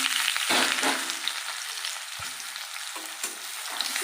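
Parboiled potatoes go into hot oil and fry with a strong, close crackling sizzle, broken by stirring and shifting noises, with no voices.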